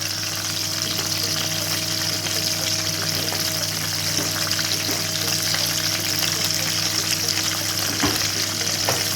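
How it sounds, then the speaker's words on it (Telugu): Green chillies and curry leaves fry in hot oil for Amritsari chole, a steady close sizzle with faint stirring and occasional crackles and no talking. "పచ్చిమిర్చి వేశాడు, అలాగే కరివేపాకు వేస్తున్నాను"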